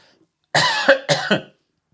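Two close, harsh coughs in quick succession, loud and near, with no talking around them.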